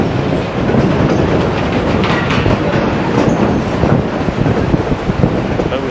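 The Durango–Silverton train rolls along its tracks, heard from an open-sided car with bench seats: a loud, continuous rumble with rhythmic clacking and wind buffeting the microphone.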